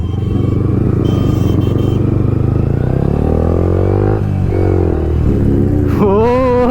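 A Kawasaki Ninja ZX-10R inline-four superbike and a 155cc motorcycle ride on the road, their engines loud and close, with revs climbing and pitch rising steadily before a sharp burst of throttle near the end.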